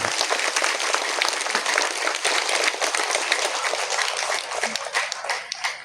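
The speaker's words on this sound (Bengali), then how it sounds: "আমি অনুরোধ করব সকল ভক্তবৃন্দকে ওদের জন্য একটা জোরে হাত তালি দেবে" Devotees at an ashram building inauguration give loud, dense, sustained applause that fills the whole stretch.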